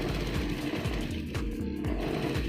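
A sewing machine runs steadily, stitching the waistband of a pair of jeans, with a loud, continuous mechanical whir and rapid needle rhythm throughout and no talking.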